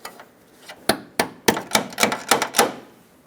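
Headlight clips on a 2000-2005 Ford Excursion chrome performance headlight being tapped down into place: about eight sharp, close knocks, spaced at first, then coming in a quicker uneven run.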